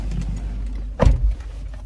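Getting into a car: a muffled thud of the door closing stands out against a low, steady rumble of the vehicle interior, with no talk.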